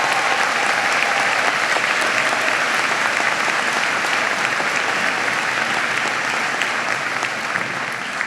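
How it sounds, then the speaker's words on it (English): A large audience at a university commencement ceremony claps continuously, a dense sustained applause at even loudness throughout. "Give them a big round of applause."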